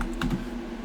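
Keys on a computer keyboard tap in a quick short burst of a few clicks, close and fairly quiet over a steady low hum, with no talking.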